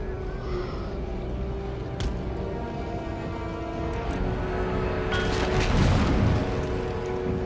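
Cannon fire in an Empire Total War battle, with a few muffled booms rumbling beneath a steady low background of battle noise, growing busier toward the end.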